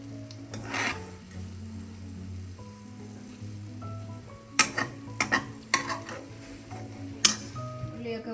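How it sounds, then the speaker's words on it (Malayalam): Fried onions scooped out of hot oil for fried chicken biryani, a spoon scraping and clinking against the pan in sharp scattered taps over a soft steady sizzle. "ഉള്ളിയൊക്കെ മൂത്തിട്ടുണ്ട്. നമുക്ക് കോരി മാറ്റാം."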